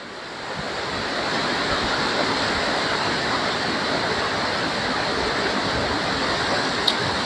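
Water in a stream near a fallen tree with exposed roots, somewhere close to the Potomac River in Virginia, rushes as a loud, steady broadband wash. It swells in over the first second and then holds constant.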